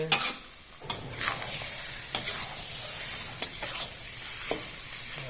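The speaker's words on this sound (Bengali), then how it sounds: "ভালো করে লাল লাল করে ভেজে নেবেন" Fish roe curry (rui fish eggs) stirred and fried in a wok, with steady frying sizzle and repeated scraping stirs of a spatula against the pan, close and alone.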